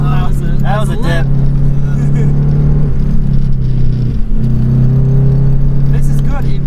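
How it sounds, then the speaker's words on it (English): Subaru Legacy driving fast on a road, a loud steady engine and road rumble heard from inside the car, with brief speech-like bursts over it at a few points. "It sounds like I'm driving really fast"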